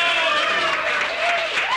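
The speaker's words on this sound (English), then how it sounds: "even Earl Strickland gives a round of applause there" A room applauds a strong break shot in a nine-ball pool challenge match between Efren Reyes and Earl Strickland, a brief burst of steady clapping with a tonal hum running beneath it.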